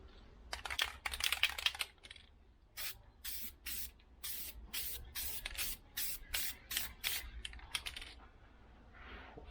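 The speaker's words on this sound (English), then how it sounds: "the instructions tell me to spray a thin coat on both sides of the gasket" Sealant sprayed from an aerosol can in a thin coat onto both sides of a Johnson 15hp outboard head gasket, heard as a rapid run of about a dozen short, sharp hissing bursts, close and fairly loud, with no talking.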